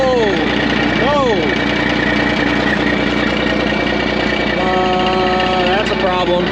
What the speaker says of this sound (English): I lost my exhaust.